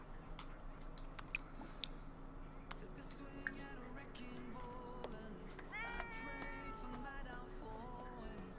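Cat meows in The Sims 4, a few quiet rising cries in the second half over a busy low game background, with faint chewing-like clicks.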